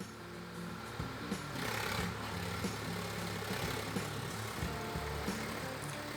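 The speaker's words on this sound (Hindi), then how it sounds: "करीब 10 मिनट ये ट्रैक्टर यहाँ पे चलेगी।" A small tractor engine runs steadily while tilling a small vegetable patch, circling round and round, with a continuous mid-level drone and occasional knocks from the ground working, heard from close by.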